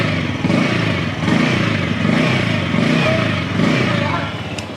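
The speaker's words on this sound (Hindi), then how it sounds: "ये R15M का साउंड है," A Yamaha R15M motorcycle engine is revved in repeated blips, each rising and falling in pitch, over a running idle, loud and close.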